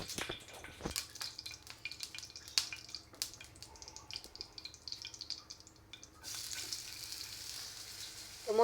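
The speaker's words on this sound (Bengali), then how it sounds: "মাছগুলো এখন ভেজে নিব।" Spiced rohu fish pieces fry in a pan, giving a quiet, sparse crackle with scattered pops and clicks that grows into a steadier hiss in the last few seconds.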